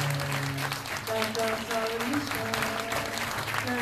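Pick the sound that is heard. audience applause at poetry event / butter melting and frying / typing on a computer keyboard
audience applause at poetry event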